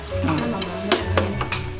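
Pork and beef sizzle and crackle on a hot tabletop grill, steady frying hiss with a couple of sharper pops and scraping stirs, close by.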